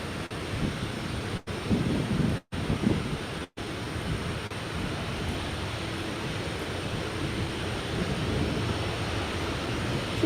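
An airliner takes off at Austin-Bergstrom International Airport, a broad, steady roar of jet engine noise with a windy hiss, heard from a distance and holding level for about ten seconds after a few brief dropouts.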